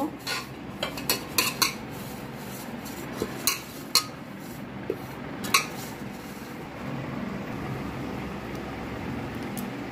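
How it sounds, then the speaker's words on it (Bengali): A metal cooking pot being greased with white oil for chicken biryani, with a run of scattered clinks and scrapes of utensil on the pot, close and fairly quiet, then a softer steady rustle. "পাত্রটা এইভাবে সাদা তেল মাখিয়ে নেব।"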